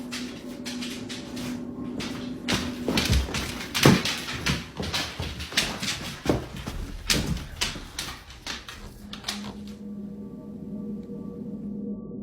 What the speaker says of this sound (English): the source of these knocks is nowhere to be found